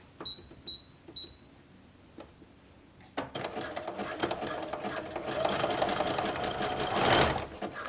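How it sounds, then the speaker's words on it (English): A sewing machine stitches elastic onto a leggings waistband: a few faint beeps and clicks first, then a close, rapid mechanical whir that runs steadily for several seconds and builds near the end, with speech also present. "I'm just going to continue to stitch the elastic onto that edge"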